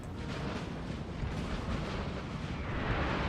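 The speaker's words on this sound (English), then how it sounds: "They're just going to die to artillery." Dense, continuous rumble of massed artillery fire on a Napoleon Total War battlefield, a steady roaring wash of booms blending together without any voices.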